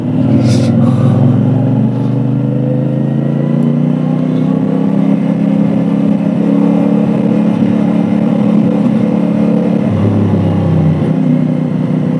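Cars drive in along a road in Malaysia, a loud, steady engine drone with a rising pitch sweep as a vehicle passes close, briefly dipping near the end, with no talking.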